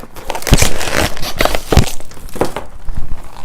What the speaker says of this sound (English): We'll go ahead and open this tape mess first